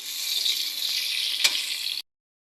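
Tomatoes sautéing in a pan while cooking ginisang sayote, a steady close sizzle for about two seconds with a brief louder crackle near the end before it cuts off.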